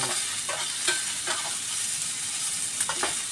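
Sardines and tomatoes fry in a pan with a steady, close sizzle, broken now and then by soft clicks of stirring.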